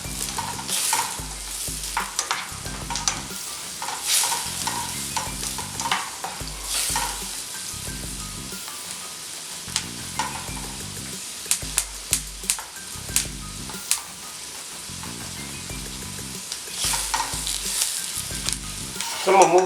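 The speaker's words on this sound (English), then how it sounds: "So I want my onions to caramelize." Onions caramelizing in a pan over a fire, a continuous close sizzle broken by repeated stirring scrapes and sharp clacks of the utensil.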